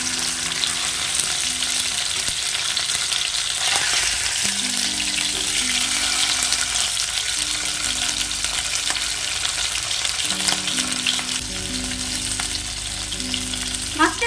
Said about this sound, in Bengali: তেল গরম হয়ে গেছে দিয়ে দেব আমাদের নুন হলুদ দিয়ে মেখে রাখা মাছ